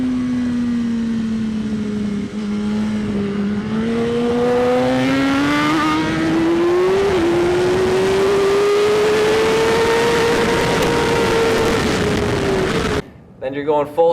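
A motorcycle on a rider-training track pulls hard at full throttle, its engine note rising steadily and loudly for several seconds before cutting abruptly as the rider brakes hard; close and continuous, with no talking.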